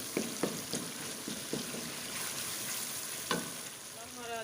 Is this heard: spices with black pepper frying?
yes